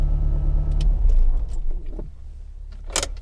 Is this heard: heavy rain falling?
no